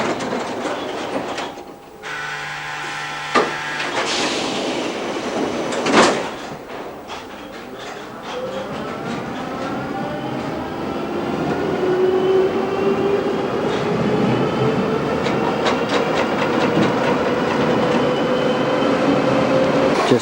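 Budapest trams pass one another on street rails in 1989, with a loud whirring rumble, a brief bell-like tone, rattling clacks and rising motor whines over twenty seconds, and no one speaking.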